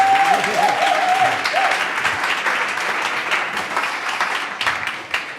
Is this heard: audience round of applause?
yes